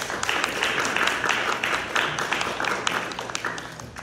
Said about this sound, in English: This is the first time I get an applause.